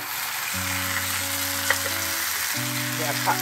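Hot oil sizzles steadily in a pan as mustard paste is added, with a couple of faint clinks over a sustained tonal hum in the background.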